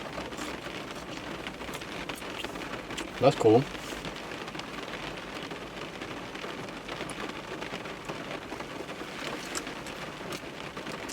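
Steady rain falls throughout, a dense even patter, while a person briefly says a few words near the start.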